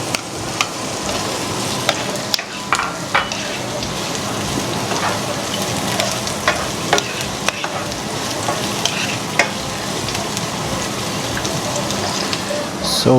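Garlic sizzling and frying in a pan for pinakbet, a steady dense crackle running throughout with occasional stirring scrapes and clicks, moderately loud and close, with no talking.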